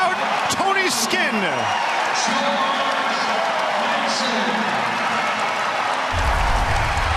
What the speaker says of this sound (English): It's a raucous Ryan Center crowd.